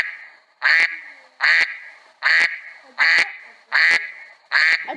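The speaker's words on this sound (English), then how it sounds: "A duck." A duck quacks loudly and up close six times in an even, regular rhythm, each quack a harsh, nasal burst separated by short pauses.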